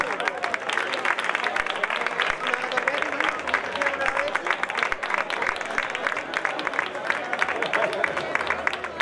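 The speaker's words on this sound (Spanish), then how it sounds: "Un aplauso para ellos." An audience at a triathlon awards ceremony in San Roque claps steadily for the prize winners, a dense, sustained applause from a crowd filling the whole stretch.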